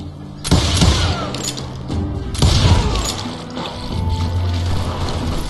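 Gunfire in the Call of Juarez Gunslinger video game, with loud, sharp shots and bursts crackling over a busy, noisy action soundscape, a strong blast near the start and another midway.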